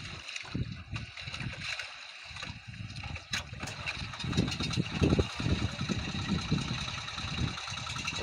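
Motor of a large wooden fishing boat runs with an uneven, chugging drone over open water, rising and falling in loudness throughout.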